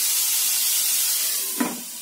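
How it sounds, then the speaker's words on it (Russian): Pork fat sizzles while frying in a pan, a soft steady hiss with a brief clink or stir near the end, fairly close and without voices. "Салочка жарится."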